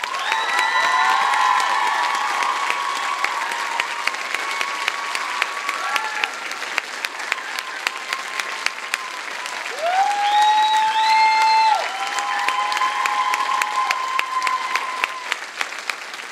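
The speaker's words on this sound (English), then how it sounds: "Let's give them a round of applause." Sustained applause from an audience at the 2022 Champlain Saint-Lambert graduation ceremony, a loud dense wash of clapping with a few cheers and whoops on top, lasting throughout.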